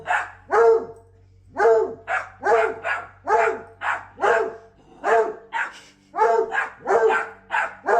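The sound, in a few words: dog barking in a played video clip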